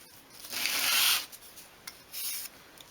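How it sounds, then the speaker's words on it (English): The top edge of a miniature 1/12 scale wooden chest of drawers piece is swept across sandpaper at an angle: close, dry rasping strokes, one long pass and a couple of shorter ones, with no voices. "So place the piece against the sandpaper and just sweep it towards you, holding it at a 45-degree angle."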